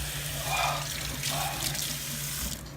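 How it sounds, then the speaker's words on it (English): Cold tap water gushes steadily into a kitchen sink over freshly cooked beets, a close, continuous splashing rush with slight surges in flow. "get them over to the sink and get cold water under them"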